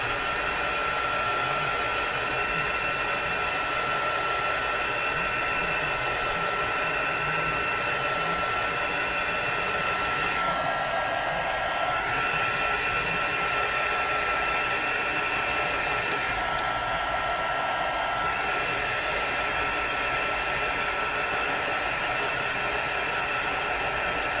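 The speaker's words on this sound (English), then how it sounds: "Then we'll run it through a heat gun." A heat gun blows steadily and loudly on painted shelf liner, a continuous close airy roar lasting the whole stretch with slight dips in tone partway through.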